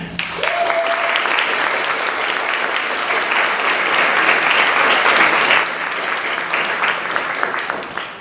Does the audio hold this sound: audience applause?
yes